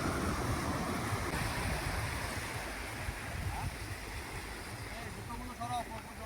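Ocean surf washes in toward the shore on a cloudy, drizzly day as people wade in the water, a steady broad rush of waves with wind noise on the microphone and faint voices in the background.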